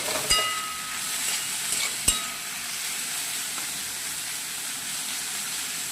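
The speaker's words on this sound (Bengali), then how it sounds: "গরম গরম মূলো শাক ভাজা" Radish greens stir-frying in a pan, a constant close hiss of sizzling with a couple of sharp clinks from a utensil, no talking.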